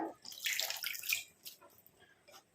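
Hibiscus leaves are rinsed by hand in water, with short splashing and trickling bursts followed by fainter drips, close up and without talk.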